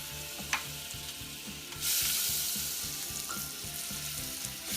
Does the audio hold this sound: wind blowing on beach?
no